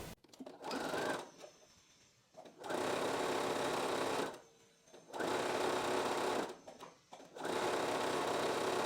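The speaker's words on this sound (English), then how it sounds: "I'm gonna sew with a 1 centimeter seam allowance away from the folded edge here" A sewing machine runs in three long, steady bursts stitching fabric straps with a one-centimeter seam allowance, with short quiet pauses between runs, close and loud.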